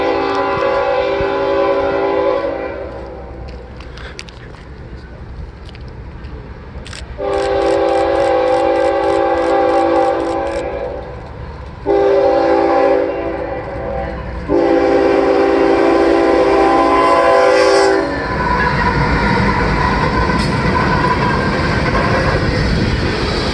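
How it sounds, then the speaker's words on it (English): A Norfolk Southern freight train, NS 777, led by heritage locomotives 8100 and 8104, rumbles past close by and loud, sounding several long horn blasts with short toots between them over the rolling wheel noise. "NS 777 had two heritage units leading"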